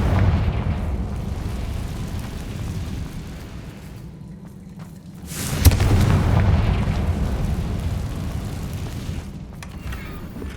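A Confringo spell explodes in Hogwarts Legacy, a deep rumbling boom that swells to a sharp burst partway through and rolls into a sustained low roar over steady game ambience.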